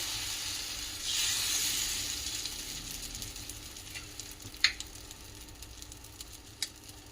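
Davangere benne dosa, a butter dosa, sizzles steadily on a hot pan. The hiss swells after the first second and continues close and fairly loud, with a couple of sharp ticks and pops near the end and no talking.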